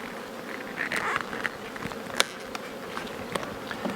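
Honeybees buzz faintly around an outdoor beehive during frame inspection, a thin hum broken by several brief, sharp passes of individual bees flying close by.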